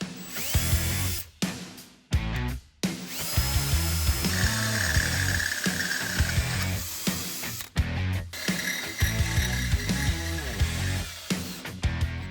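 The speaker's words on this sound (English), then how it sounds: "we're going to drill them out to 1/2-inch." A power drill whines in sustained bursts as it bores half-inch holes into metal on a Jeep Wrangler JL, stopping briefly between runs with a few short pauses.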